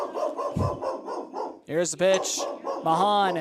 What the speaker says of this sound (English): So if you hear the background barking, that's what it is.